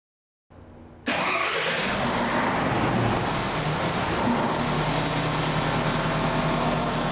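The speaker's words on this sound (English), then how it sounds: "and then start up the engine." A Doosan diesel engine cranks and fires after a brief starter whir, then settles into a loud, steady running drone that continues to the end, with no voices.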